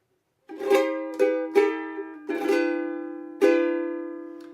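Five acoustic guitar chords strummed one at a time, each ringing out clearly before the next, with the last one sustaining and fading alone.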